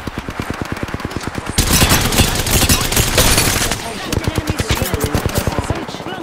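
Gunfire in the Apex Legends video game: rapid automatic bursts close up, with rhythmic shots giving way to a dense, loud barrage and then further steady firing, with some speech mixed in.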